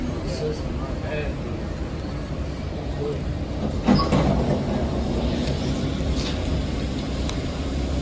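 Passenger train stopped at Arrowwood Station, heard from inside the car as a steady, even rumble with one soft thump partway through.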